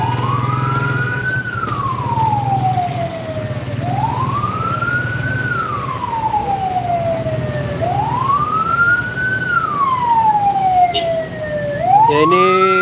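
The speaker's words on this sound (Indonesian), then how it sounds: "Ada satu ambulans yang harus ikut macet." An ambulance stuck in a traffic jam on a flooded highway in Simalungun sounds a loud, near wailing siren that sweeps up and down in slow repeated cycles over a steady engine and road rumble.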